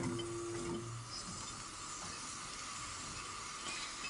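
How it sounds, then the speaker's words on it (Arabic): Chopped onion frying in a pan of oil with a knob of butter, giving a steady, close sizzling hiss that holds evenly throughout with no voices. "هنزل بحته زبده كمان عليها، وهنزل بقى يا حبايبي بالبصله"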